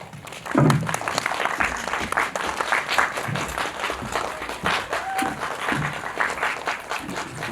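Audience applause greets two actors arriving at a film screening Q&A in a cinema, a dense sustained wash of clapping from a large crowd that swells at the start and holds steady throughout.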